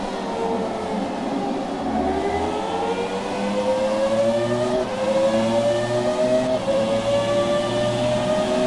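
A Formula 1 race car in the F1 2017 video game screams along with a high-revving engine whine that climbs in pitch through repeated gear changes, loud and sustained with no talk.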